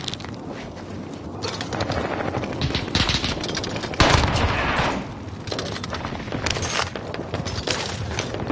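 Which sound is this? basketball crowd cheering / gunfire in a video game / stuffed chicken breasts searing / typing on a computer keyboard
gunfire in a video game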